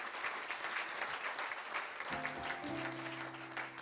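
A church congregation breaks into steady, loud applause for the Lord, a dense clapping wash throughout with a voice or held tone rising underneath toward the end.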